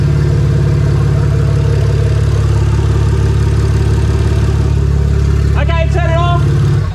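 A BMW N54 engine, a budget DIY forged build, idles smoothly with no exhaust fitted, a loud, raw, steady rumble close by, with a brief voice heard near the end.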